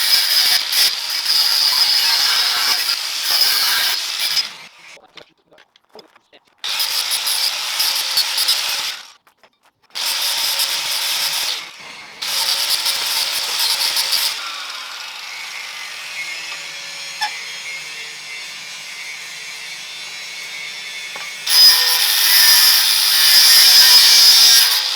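Metal grinding in a shed strips old tube ends off a V8 Discovery race truck, loud harsh bursts with short silent pauses, then a quieter stretch before a final strong burst.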